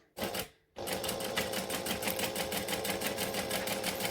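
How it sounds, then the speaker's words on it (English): Sewing machine running a short straight seam with a back stitch while making a batwing wallet, loud and close, with steady rapid needle clatter after a brief pause near the start. "We're going to stitch and back stitch."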